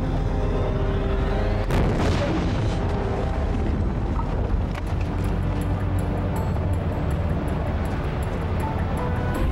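A staged vehicle explosion set off for a TV stunt on a Criminal Minds set: a sudden heavy boom, then a long roaring, crackling rumble with debris pops, loud and dense, no talk.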